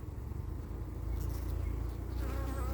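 Honeybees, drones among them, drone in a dense continuous buzz close around an open hive box, swelling louder partway through, with no talking.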